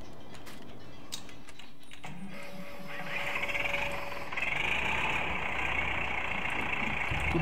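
A UTV engine idles and runs nearby with a steady mechanical drone, and after a few seconds it grows louder and rougher as it revs.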